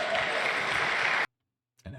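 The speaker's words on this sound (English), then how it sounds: "everybody's just applauding and cheering this nonsense" An audience applauding a talk fills the first second and a quarter with a steady wash of clapping, then cuts to silence before another burst of sound begins.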